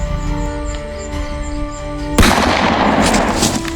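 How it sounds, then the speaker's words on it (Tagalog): A sharp, loud bang cuts through a steady humming background, followed by a lingering noisy rumble like a gunshot echoing. "Putok ng baril yun."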